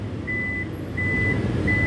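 Warning beeps from the power tailgate of a Toyota Kijang Innova Zenith Q CVT TSS as it opens, three short high tones spaced evenly over a steady low engine hum, with no talking.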